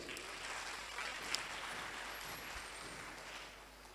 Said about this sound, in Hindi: एक जोरदार ताली आप सबके लिए।